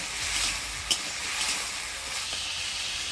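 Pumpkin with salt, turmeric, green chilli and a little sugar fries in a pan, giving a moderate, steady sizzle with a couple of soft stirring knocks, no talking.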